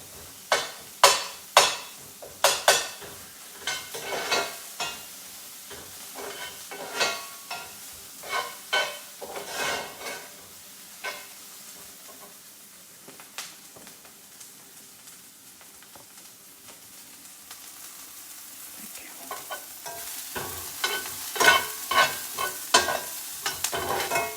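Food sautéing in a pan with turmeric to follow, a spoon scraping and knocking in bursts of stirring strokes over a soft continuous sizzle, quieter in the middle stretch before the stirring picks up again.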